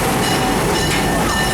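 On board the Serengeti Express park train at Busch Gardens Tampa, a steady, close rumble of wheels and carriage runs through the whole short stretch.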